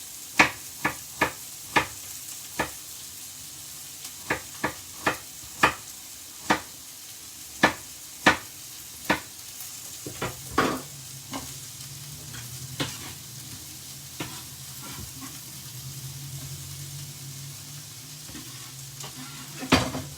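Brussels sprouts being chopped on a board for a tuna rice noodle stir fry: a series of sharp, evenly spaced knife knocks, after which a low steady sizzle from the pan grows underneath and continues to the end, with no talking.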